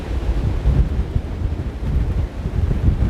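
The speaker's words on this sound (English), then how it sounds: "these are very strong gusts of wind" Strong gale-force wind gusts buffet the microphone outdoors, producing a loud, continuous low rumble that surges and swells in waves with no voices.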